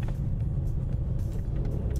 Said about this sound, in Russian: Это запись в машине я делал